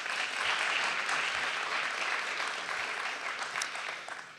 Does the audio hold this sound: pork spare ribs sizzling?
no